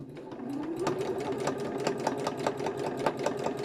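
A sewing machine stitches at a steady quick rhythm, its regular mechanical clicks and motor hum close and moderately quiet.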